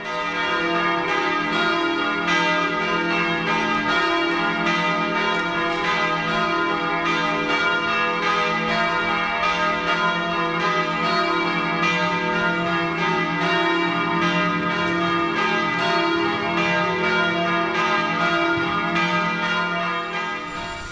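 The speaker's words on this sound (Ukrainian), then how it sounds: "в якійсь точці міста почуєте дзвін, то знайте, це звучить собор святого Миколая" The bells of St. Nicholas Cathedral in Ljubljana, Slovenia ring continuously, their overlapping peals blending into a loud, sustained wash of tolling that lasts the whole time.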